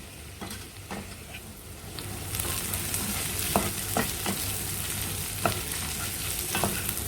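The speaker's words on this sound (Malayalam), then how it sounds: "ഒരു 5 മിനിറ്റ് നമുക്ക് ഇതിലിട്ട് വഴറ്റിയെടുക്കാം." Bitter gourd sautéing in a pan for a tamarind curry, with a continuous frying sizzle that grows louder partway through, broken by repeated sharp scrapes and taps of a spoon stirring against the pan at an uneven pace.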